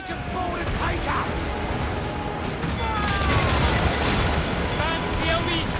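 Ship cannons fire in a naval battle in Assassin's Creed IV: Black Flag, a dense rolling fusillade of booms amid constant game noise and shouting voices.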